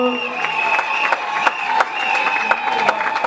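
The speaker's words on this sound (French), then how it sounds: "on applaudit très fort pour ce couple." Wedding guests at a religious ceremony applaud the couple in a sustained burst of clapping and light cheering, with a scattered crowd texture and occasional sharper claps, joined by a steady tonal music or voice layer throughout.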